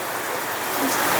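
Steady rain pours down outside during a monsoon shower while food is cooked at home, a dense broadband hiss of drops that stays even and close, swelling slightly near the end, with no voices.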